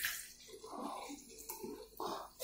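A lightly carbonated soft drink bought at an IKEA food shop is poured from a bottle, giving a close, continuous liquid gurgle and splash with a faint fizzy hiss, swelling and easing over a couple of seconds.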